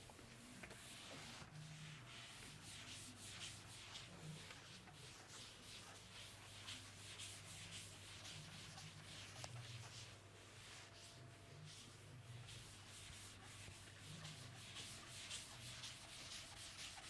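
A board being wiped clean during a chemistry lesson, a soft, steady rubbing and scraping that continues quietly for the whole stretch with no talking.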